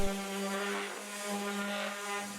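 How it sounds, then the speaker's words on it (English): A power sander lightly sands small pallet wood pieces with a steady, fairly quiet tonal whir that swells and eases slightly as it moves over the wood, alone without voices. "Here I'm just going to sand these lightly."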